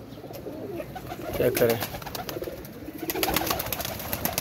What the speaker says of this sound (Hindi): ये मेरे डेरे वाले कबूतर जो हैं वो कबूतर हैं